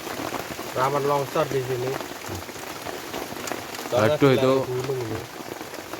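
Heavy rain falls on a campsite as a continuous dense hiss with scattered drops striking close by, while a person talks over it in two short bursts.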